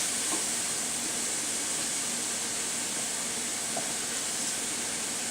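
White button mushrooms sizzle in a pan for a mushroom stroganoff, a constant moderate hiss and crackle running for several seconds with no talk.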